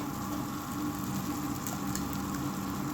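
Eggs go into a pan of chopped onion and tomato cooked down for egg bhurji, giving a soft, continuous sizzle at moderate distance with faint stirring and no talking.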